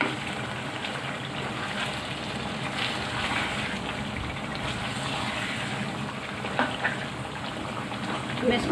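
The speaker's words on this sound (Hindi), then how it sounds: "बगैर पानी के ऑयल में पक रहा है चिकन।" Chicken cooking in oil without water in a pot, giving a steady low sizzling and bubbling hiss that runs throughout at moderate level, with faint background sounds.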